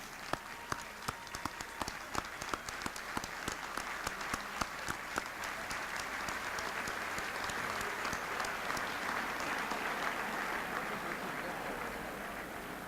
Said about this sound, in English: Please join me in a round of applause for our head table guests